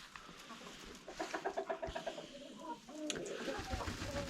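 Chickens in a backyard coop cluck in a quick rhythmic run of short calls, fairly close, with a scuffle of hens pecking at a young dog nearby and some background rustling.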